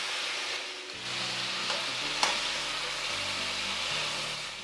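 Chicken fries over a high flame in a kadhai, giving a steady, even sizzle with a couple of brief clinks or stirs. No one speaks.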